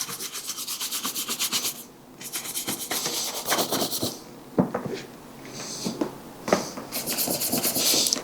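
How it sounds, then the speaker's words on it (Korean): A shoe brush sweeps over men's leather dress shoes with a slightly rough coated finish, making rhythmic bristly scrubbing strokes in close bursts separated by short pauses. "이제 여기를 다른 반대편을 브러쉬질을 해줍니다"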